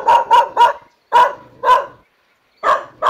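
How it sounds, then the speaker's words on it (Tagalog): A dog barks loudly and close by, a quick burst of three barks, then two more, a pause, and two final barks. "Pasensya na, ang ingay ng aso ah."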